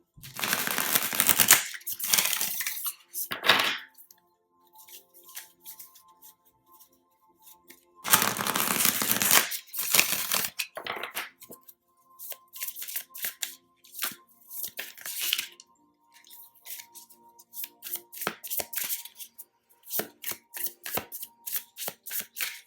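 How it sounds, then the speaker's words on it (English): Loud tarot card shuffling in repeated bursts, long riffling runs broken by pauses and lighter flicks, with no talking. "I'm going to shuffle kind of loud real quick"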